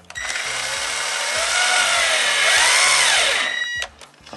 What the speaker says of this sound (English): Now I'm just going to show you how easy it is if you've got an electric screwdriver like this.